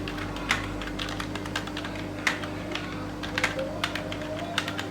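Typing on a computer keyboard, a series of light clicky keystrokes in short irregular bursts, close and clear over a quiet steady room hum.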